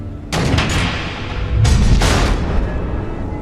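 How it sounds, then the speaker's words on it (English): Missiles exploding in Batman: The Enemy Within, heard as a pair of sharp loud blasts followed by a deeper rumbling boom and a lingering roar. "The missiles."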